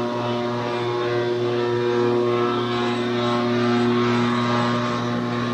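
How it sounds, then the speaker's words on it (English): A steady mechanical drone with strong low hum and rattling vibration from a fan shaking worn freezer equipment, loud and continuous throughout. "A lot of the noise is just that fan shaking the crap out of it."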